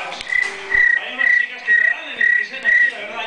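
A voice mimics a cricket with six evenly spaced, high-pitched trilling chirps, close and fairly loud, with brief pauses between each.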